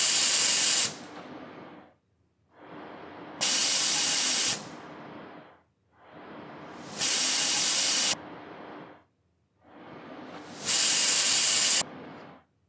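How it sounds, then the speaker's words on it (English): Repeated forceful hissing like air pushed out through a piston, four long bursts in a steady rhythm with pauses between, each ending in a brighter, sharper blast, fairly close and alone. "It was as if somebody was repeatedly forcing air out through a piston"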